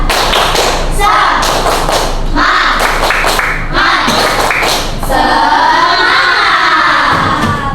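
A school class doing a rhythmic spirit clap, bursts of hand clapping and thumps in a patterned beat with children's voices shouting along, loud and close in a room.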